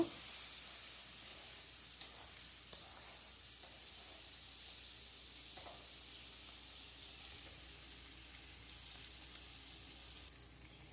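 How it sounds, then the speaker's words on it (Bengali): Prawns salted and dusted with turmeric fry lightly in oil, a soft, steady sizzle with a few faint taps of stirring. "চিংড়ি মাছগুলো হালকা করে ভেজে নেব"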